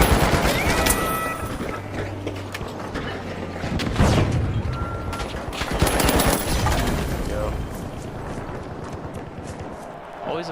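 Sniper rifle and other gunfire crackle through a busy firefight in the video game The Finals, with dense bursts and impacts filling the mix while a player talks over the action.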